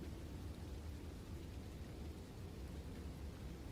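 Steady rain pours in a video game, an unbroken wash of noise with a low rumble beneath it, holding at an even level from start to finish with no voices over it.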